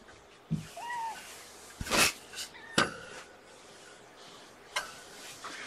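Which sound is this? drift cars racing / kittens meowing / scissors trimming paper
kittens meowing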